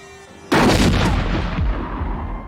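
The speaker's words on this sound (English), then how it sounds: "Ed, shoot him." A single loud gunshot from the film LA Confidential, a sudden close blast followed by a long rumbling decay.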